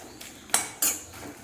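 Makhana (fox nuts) being fried in a pan with a metal utensil, giving a few sharp scraping clinks spaced apart, two of them louder, against a quiet background.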